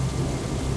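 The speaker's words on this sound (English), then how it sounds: "A thunderstorm has swept through the jungle." Thunderstorm sweeping through a simulated jungle enclosure, a dense rush of heavy rain with a low rumbling undertone, loud, steady and close, and no voices.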